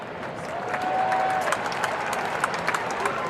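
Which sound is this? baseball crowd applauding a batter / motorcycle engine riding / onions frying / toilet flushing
baseball crowd applauding a batter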